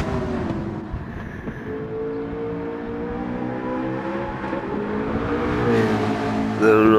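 Race cars roar past a grandstand, one engine note building and then falling away, with further engine sounds rising toward the end amid crowd background noise.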